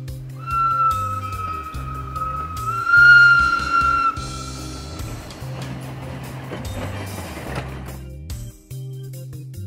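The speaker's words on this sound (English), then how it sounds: "Steam engine." A steam locomotive's high, steady whistle sounds for a few seconds over low mechanical chugging and rumble, then fades while the engine noise continues.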